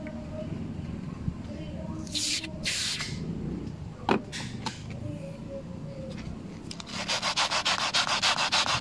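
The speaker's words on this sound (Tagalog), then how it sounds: "kuskusin nyo, kuskusin hanggang matanggal yung dumi" Brush scrubbing dirt off a surface treated with multi-purpose foam cleaner, with a steady rasping rub that turns into a fast, regular back-and-forth stroke toward the end. A short spray burst and a knock also come through, and a voice speaks faintly underneath.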